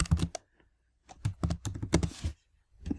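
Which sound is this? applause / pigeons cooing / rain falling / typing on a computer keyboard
typing on a computer keyboard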